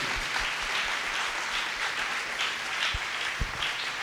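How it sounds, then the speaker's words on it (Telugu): A crowd at a church festival for Saints Peter and Anne breaks into steady, sustained applause, a dense wash of many hands clapping together at moderate distance, with a couple of sharper nearby claps standing out. "గట్టిగా చప్పట్లు కొట్టి దేవునికి వందనాలు తెలియచేద్దాం"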